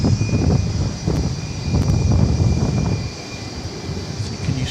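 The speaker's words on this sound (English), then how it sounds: "you hear in the background a 757, which is just arriving at UPS" Boeing 757 jet arriving at the UPS area of DFW Airport at night, a loud, steady engine roar that swells and eases over a few seconds with a thin high whine, no talking.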